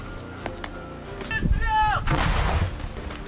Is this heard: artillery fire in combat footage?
yes